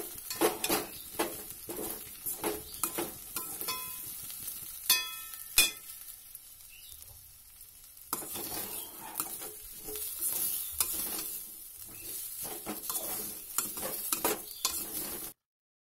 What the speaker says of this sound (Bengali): এবার সবকিছুকে ভালো করে মিক্স করতে হবে